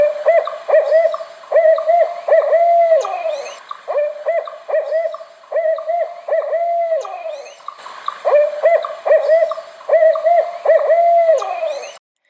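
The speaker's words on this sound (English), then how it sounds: "Did the barred owl's song remind you of a word or a phrase?" Barred owl song: a series of rhythmic hooting phrases repeated in two bouts, loud and close, with no other sounds.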